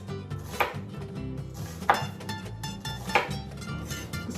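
A knife chops onions on a board in three or four sharp, close strikes spaced about a second apart, with a low background hum between them.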